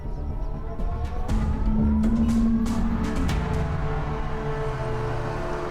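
A car on a road brakes to a stop, with a loud engine hum and a long tonal tire squeal sliding down in pitch before settling into a steady idle.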